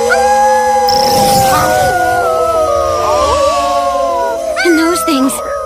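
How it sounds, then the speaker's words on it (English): A beastman in an anime lets out a long, wavering howl that rises and bends in pitch, layered with echoing howls from others and a dense background of music and crowd noise. "I just wish there was a way to have everyone in Anima City hear this howl right now."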